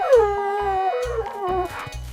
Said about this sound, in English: Husky.